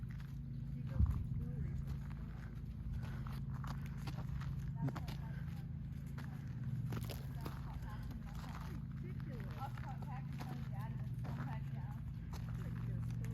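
Hooves of a horse clip-clop at a walk on the ground during a riding lesson, faint and steady beneath a voice coaching the rider, with a low rumbling background throughout.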